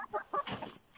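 Farm chickens clucking close by, a quick run of three short clucks followed by a softer, more breathy cluck and fading murmur within about a second.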